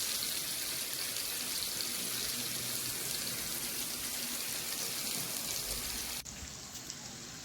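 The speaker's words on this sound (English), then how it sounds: "So immediately we are going to add some water" Water pours steadily into a cooking pot of fried seasoned pepper chicken, a continuous hissing splash that cuts off abruptly near the end, leaving a softer background hush.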